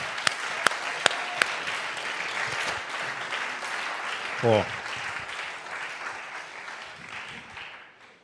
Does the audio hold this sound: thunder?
no